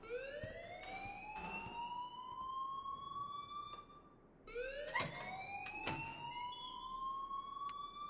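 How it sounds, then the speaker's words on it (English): Fire alarm in the video game Life Is Strange, a loud electronic siren with rising sweeping tones repeating steadily, briefly dipping before starting again, with no talking over it. "please turn off that alarm since that's your job"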